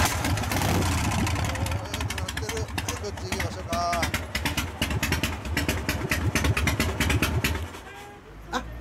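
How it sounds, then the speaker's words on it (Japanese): A 1998 Harley-Davidson FLSTS Heritage Springer Evolution engine idles with a steady, throbbing putter close by, as people chat over it. "こちらの方からエンジン出してもらえますか"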